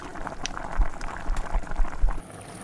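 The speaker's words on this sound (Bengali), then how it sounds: "ঝোল ফুটে উঠলো, তার মধ্যে বেগুন দিয়ে দিলাম আর মাছগুলোও ছেড়ে দিলাম" Hilsa fish and brinjal curry boils in a pan, with close, irregular bubbling pops and soft low plops that continue throughout before easing near the end.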